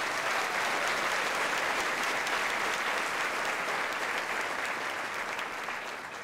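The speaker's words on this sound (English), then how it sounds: "Let's give them another round of applause." Sustained, loud applause from the crowd at a chamber of commerce annual meeting for award winners, dense even clapping that holds steady and eases slightly toward the end, with no voices over it.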